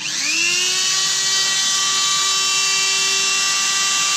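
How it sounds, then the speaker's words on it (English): A Dremel rotary tool spins up with a rising whine, then holds a loud, steady, high-pitched buzz at close range while cutting a SuperNova bolt stop latch, with no voices. "Next I will take my Dremel"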